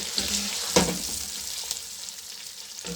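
Chicken browning in a pot for white yakhni pulao, giving a low steady sizzle with a couple of brief stirring scrapes and clinks, close by and moderately quiet, with no voices.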